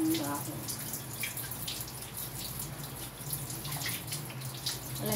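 Squash rinsed under a running kitchen tap: a steady, close hiss of flowing water with faint splashing, and a brief human voice near the start.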